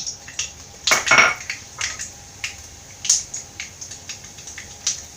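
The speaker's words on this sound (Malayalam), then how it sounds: "കടുക് ഇട്ട് കൊടുക്കാം." Mustard seeds dropped into hot oil in a pan, with sharp scattered pops and metallic clinks against the pan, close and irregular.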